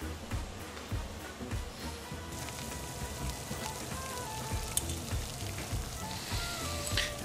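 A whole cucumber boils in a pot of water, giving a continuous bubbling, sizzling crackle with scattered pops that stays close and fairly loud throughout.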